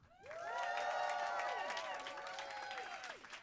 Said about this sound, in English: please will you give me your greatest cheer and applause